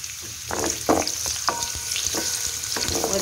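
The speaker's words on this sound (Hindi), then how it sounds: "देखें जब प्याज इस तरह सौते हो जाए ना" One large onion sautéing in oil in a pan for chicken with turnip, a continuous close sizzle broken by repeated scraping stirs of a spoon, with no one talking.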